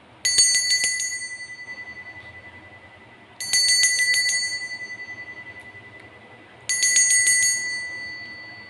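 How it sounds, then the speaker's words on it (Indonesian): A small bell rung three times to open a card reading, each bright metallic strike ringing out clearly and decaying slowly before the next, evenly spaced with quiet room tone between. "dimulai dengan lonceng berbunyi"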